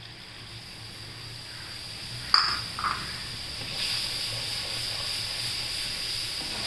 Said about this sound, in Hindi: अब इसमें डालेंगे हम 1 कप पानी